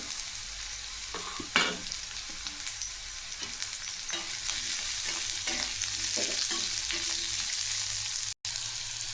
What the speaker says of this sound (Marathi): याला पण दोन ते तीन मिनिट तेलात फ्राय करायचं आहे